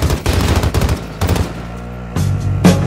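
Loud bursts of automatic gunfire in the video game Warzone, two rapid volleys followed by a short gap and a renewed burst near the end.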